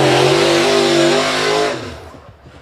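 A race car screams past on a speedway track, loud high-revving engine holding steady before dropping away as it passes into the distance.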